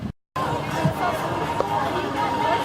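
Crowd chatter fills Valleyfair amusement park in Shakopee, Minnesota, a steady babble of many overlapping voices with occasional louder shouts, following a brief silent gap at the start.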